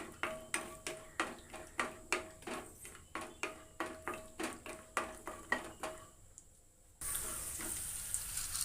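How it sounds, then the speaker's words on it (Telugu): Peanuts frying lightly in hot oil, stirred with a utensil that scrapes and clinks against the pan in a regular rhythm of about a dozen strokes, then a louder, steady sizzle takes over near the end. "ఫస్ట్ మనం వేరుశనగ గుళ్ళు వేసుకుందాం. ఇవి కొంచెం లైట్గా ఫ్రై చేసుకుంటే"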